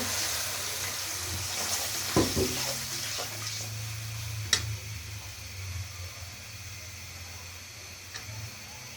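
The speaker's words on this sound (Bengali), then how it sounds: "আমি একটু পানি দিয়ে কষিয়ে নেব" Water is poured into spiced bottle gourd cooking with lentils, and a steady hiss and bubbling fill the pan with a few light utensil knocks along the way.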